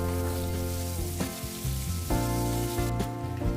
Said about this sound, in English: In some oil, I made the tadka of jeera and turmeric and added the potatoes.